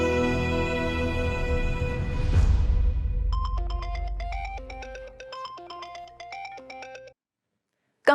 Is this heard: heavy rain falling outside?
no